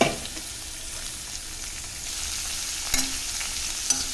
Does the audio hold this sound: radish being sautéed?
yes